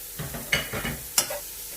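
Shredded cabbage and julienned carrot stir-fried in a pan for veg fried rice: close, brisk sizzling with a few sharp scraping stirs of a spatula in quick succession, no talking.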